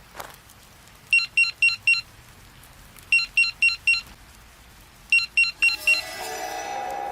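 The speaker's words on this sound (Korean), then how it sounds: "다시 M선배의 삐삐가 울렸습니다." An electronic pager goes off beside an empty riverbank at night, giving three bursts of four quick, shrill, evenly spaced beeps about two seconds apart, loud and close with quiet between them and a brighter noisy sound rising at the end.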